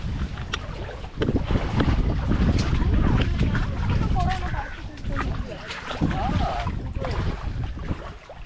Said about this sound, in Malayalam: സോളമൻ ചേട്ടൻ്റെ പായ്ക്കപ്പൽ കാണിച്ചു തരാം.